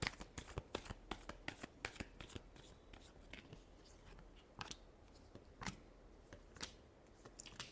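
Tarot cards being shuffled by hand, with quiet, crisp riffling and flicking taps in irregular bursts, close and soft against a near-silent background.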